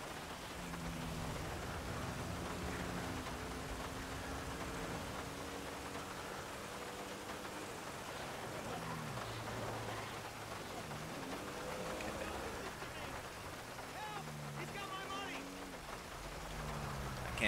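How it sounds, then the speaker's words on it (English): Heavy rain pours steadily in GTA V, a dense continuous hiss under a voice talking, with tonal game sounds drifting in and out. "I also remember the rain being this hard"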